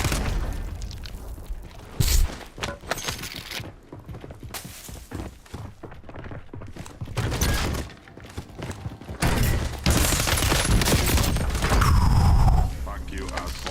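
Repeated thumps, blasts and bursts of gunfire from Warzone combat crowd the scene, with a grenade going off amid the chaos and talk over the noise.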